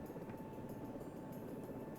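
Rotor and engine drone of a helicopter missing its tail rotor in the flight game Search and Rescue 4, a steady low whirring hum that holds evenly throughout with no talk.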